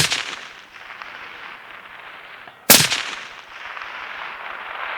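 A single sharp rifle shot fired at a long-range target, cracking loudly once midway and decaying with a short rolling tail over a steady outdoor wind hiss.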